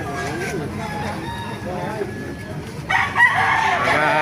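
Henny Blues chickens at a market clucking and crowing, a rooster's call rising near the end amid busy market bustle and people talking.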